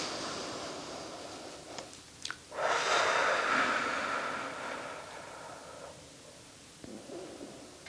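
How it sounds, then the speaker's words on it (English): Deep breathing with full exhales pushed out through the mouth, a long breathy exhale swelling and fading over several seconds between quieter inhales, close and soft. "All you need to do is take really, really good breaths and fully exhale with your mouth."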